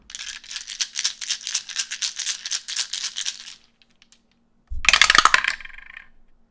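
Story dice rattled in a container for several seconds, a fast clattering burst, then a pause before a sharp loud spill of dice tumbling out, close and alone.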